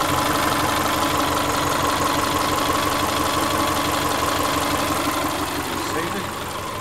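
A 2002 Subaru Outback with a 2.5-liter four-cylinder engine idles steadily, a continuous close drone with a faint knocking texture that eases slightly near the end.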